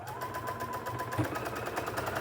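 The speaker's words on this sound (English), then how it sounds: "I'm gonna get this sewed." A sewing machine stitches quilting fabric for a chicken-themed pattern, its motor humming in a steady, fast, even rhythm at close range without pause.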